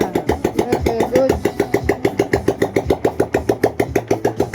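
Small engine running steadily after a low-budget overhaul, a fast even knocking pulse throughout at close range, with a voice briefly audible early on.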